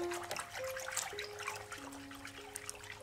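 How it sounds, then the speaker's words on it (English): Activated baker's yeast is poured steadily into a sugar wash for making vodka, a continuous trickling, splashing liquid stream heard close up for the whole stretch with no talking. "So now all we do is we start pouring it in to the sugar wash."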